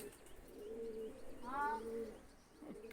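Kane breed pigeons coo in a low, soft rolling call, a few murmured phrases close by over a faint background hum, with a brief brighter chirp midway.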